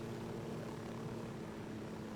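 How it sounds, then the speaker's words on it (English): Helicopter flying in the video game Ghost Recon Wildlands, a steady loud rotor and engine drone with a low hum, continuous and close throughout with no talking. "we're about to land this helicopter"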